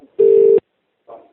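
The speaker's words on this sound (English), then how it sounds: "It's ringing again, look." A telephone line sounds a single short, loud electronic tone, like a ring or dial signal, followed by a faint murmur.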